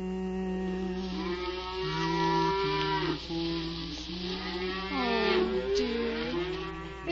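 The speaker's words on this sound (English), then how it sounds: "It's only the cows." Cattle being driven home low and moo again and again, several overlapping, drawn-out calls from nearby animals, steady and loud over a faint hiss, in a 1948 radio drama of Alice in Wonderland.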